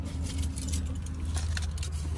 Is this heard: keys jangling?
yes